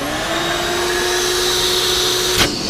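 Shop vac vacuum cleaner running with its hose on an engine's cam cover, a loud, steady whining drone with a sustained tone, ending in a brief sharp transient near the end.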